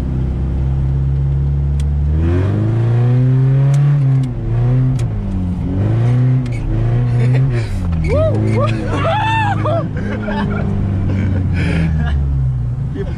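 A Gilera Stalker scooter approaches with a rising, revving two-stroke engine note that climbs in pitch as it draws near, loud and close, with people talking over it.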